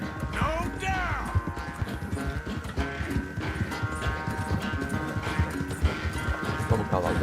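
A horse gallops with steady, rapid hoofbeats in the video game Red Dead Redemption 2, alongside a whinny, background music and game voices talking throughout.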